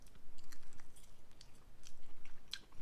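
Close, wet chewing and biting with a steady rhythm of repeated crunches while eating rice with crab, fairly quiet and alone, with one sharp click near the end.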